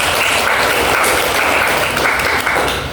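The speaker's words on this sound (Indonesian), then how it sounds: "tepuk tangan dulu buat Akmal." Steady applause from a classroom audience of students honoring a classmate after his presentation on the Quran and Hadith, dense clapping sustained for the full stretch with no voices over it.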